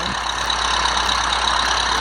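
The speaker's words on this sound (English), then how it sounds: "now the engine's malfunctioning." A malfunctioning Cessna 172 engine in the GeoFS flight simulator game drones as a steady buzzing hum with a strong low tone, continuous and loud for the whole moment, with no talk.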